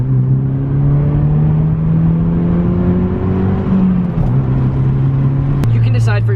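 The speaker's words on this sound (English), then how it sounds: "the one thing I do notice from this exhaust compared to my straight pipe is it is much, much quieter" Honda Civic FG1 running with a Skunk2 aftermarket exhaust, a close, steady low engine hum with slowly rising pitch and a brief blip near the end, while someone talks over it.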